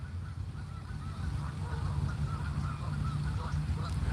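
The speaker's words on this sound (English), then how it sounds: "ducks and geese all around." Geese honking with ducks around a lake, repeated nasal calls over a steady low outdoor rumble, moderately distant and continuous.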